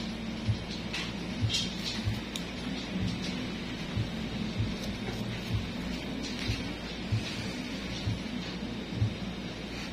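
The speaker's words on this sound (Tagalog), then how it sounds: "Lakas ang ulan dito sa downtown din." Heavy rain pours steadily over downtown Davao, a dense continuous hiss with low rumbling underneath and occasional louder spatters, no voices present.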